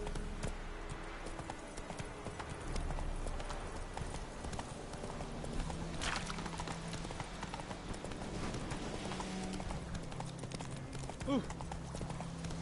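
Horse hooves trot in a video game with a brisk, rhythmic clip-clop over background sound, and a voice briefly exclaims near the end.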